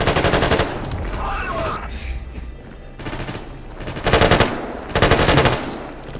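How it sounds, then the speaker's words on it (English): Automatic gunfire in S.T.A.L.K.E.R. GAMMA as a gun shoots at a wall: loud rapid bursts, a long one at the start and two shorter ones later, separated by brief quieter gaps. "Alright, shooting a wall. Shoots wall."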